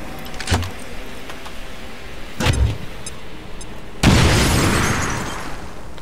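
A grenade explodes in the Xbox video game XCOM, a loud burst with a roaring rumble that slowly fades, after two short thuds earlier in the clip.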